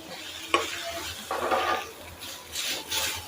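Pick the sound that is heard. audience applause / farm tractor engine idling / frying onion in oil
frying onion in oil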